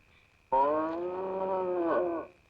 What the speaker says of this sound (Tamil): அந்த பக்கத்து வீட்டு பசுமாடு அப்ப எப்படி ஒரு மாதிரியா கத்திட்டு இருக்கு